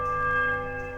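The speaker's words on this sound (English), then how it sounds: "you would now ring the bell" A metallic bell struck once in the fantasy role-playing video game Pillars of Eternity, part of a bell-ringing puzzle, giving a steady ringing tone with sustained overtones that slowly fade, heard alone without talk.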